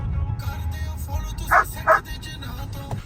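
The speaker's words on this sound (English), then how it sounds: "he's already very anxious and barking" An anxious dog on the way to a dog park gives two short, close barks about half a second apart, with soft background noise and faint low rumble around them.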